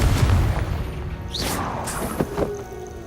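A Confringo blasting spell in Hogwarts Legacy goes off as a deep, booming burst with a sharp crack, followed by a few softer thuds and pops as it fades.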